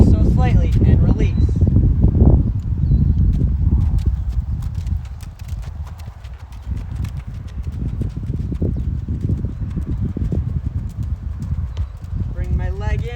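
Rocky Mountain horse hooves clop unevenly as the horse steps sideways, close and fairly loud over wind noise, with occasional louder footfalls.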